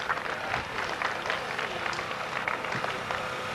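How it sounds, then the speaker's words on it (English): Steady applause from a crowd at a raceway prize-giving in 1989, a dense patter of clapping hands continuing throughout at moderate volume. "Nice round of applause."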